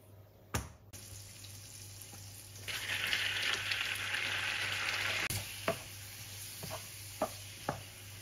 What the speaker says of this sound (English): Let simmer briefly.